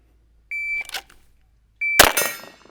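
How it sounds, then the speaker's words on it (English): Two sharp high-pitched shot-timer beeps sound a little over a second apart, the second one followed at once by two loud, closely spaced gunshot cracks with a brief ringing tail. "On the second beep, 2 rounds this time."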